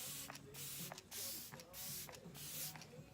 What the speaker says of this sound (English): To finish off our look, I'm going with my Glam Glow Glow Setter setting spray. I'm going to spritz this all over the face.